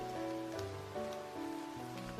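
Steady rainfall hissing and pattering on a surface, fairly faint and continuous throughout, with no voices.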